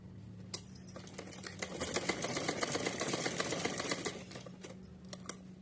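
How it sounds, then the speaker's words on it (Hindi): Sewing machine stitching choli fabric for a small Kanha ji outfit, a steady close whir of fast needle strokes running for several seconds with a few small clicks at the start and end. "उल्टा करने के बाद हम ऐसे एक सिलाई लगाएंगे इधर से"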